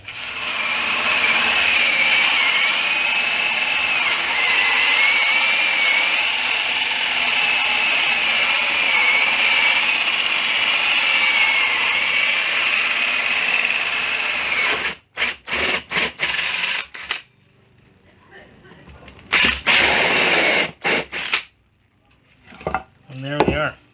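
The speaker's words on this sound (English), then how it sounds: "drill a hole out with the drill" A handheld power drill bores a hole in wood for a beer pong game, a steady whining drone for about fifteen seconds, then short stop-start bursts as the bit is worked through.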